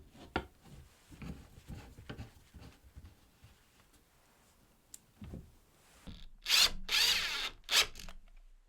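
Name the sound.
driving screws into a saw stand cabinet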